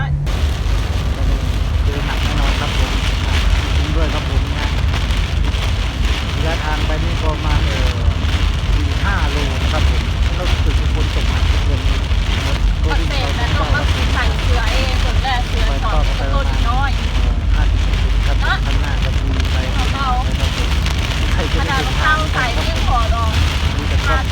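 A summer storm lashes a house in Sakon Nakhon, Thailand, with a loud, constant roar of heavy rain and wind pounding the surfaces, and faint voices buried beneath the downpour.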